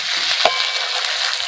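Ginger-garlic paste frying with onion in a pan for egg curry, a bright steady sizzle with a sharp scrape or clink of a spoon early on and soft stirring thumps.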